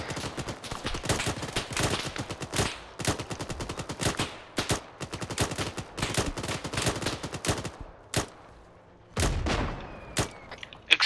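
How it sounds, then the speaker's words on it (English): Mortar explosions and gunfire in a military video game: rapid bursts and single shots crack one after another, then a heavy boom lands near the end among scattered shots. "Explosion to our northwest. Mortar."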